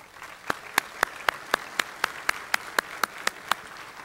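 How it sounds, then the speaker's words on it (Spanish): Clapping from the audience at a scientific meeting on serological diagnosis of leishmaniasis greets the speakers. It comes as sparse, evenly spaced claps, about four per second, at moderate volume with no voices. "por favor, con un fuerte aplauso."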